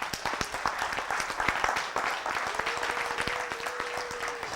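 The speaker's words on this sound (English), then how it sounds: "Give me Yahuwah a hand clap." A church congregation clapping along steadily, many hands in quick, dense rhythm filling the room, with a sustained tone rising faintly behind the claps.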